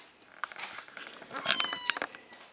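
A Ragdoll kitten meows twice, close and clear, against a soft noisy indoor background with faint rustling.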